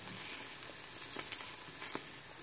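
Egg and sucuk sizzle in a pan after being flipped, a dense, steady frying hiss up close with a few faint crackles and pops, no voices.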